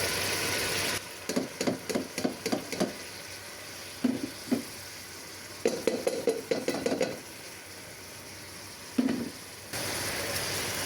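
Soaked lentils added to a hot pan and stirred, steady sizzling beneath clusters of rhythmic scraping and clattering strokes in short bursts, with quieter gaps between.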